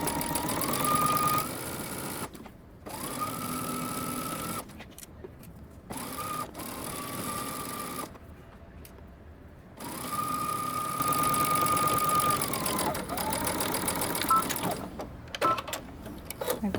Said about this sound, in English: now we're going to go to the sewing machine and we're going to stitch all the way around using 5/8 of an inch seam allowance